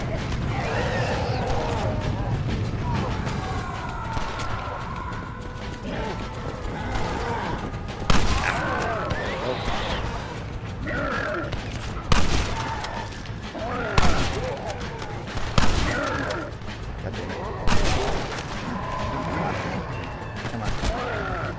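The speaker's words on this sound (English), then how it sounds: "I have to shoot a lot of these guys." Gunfire from shooting zombies in a video game, with a dense run of shots and several sharp louder blasts standing out, heard under continuous talking.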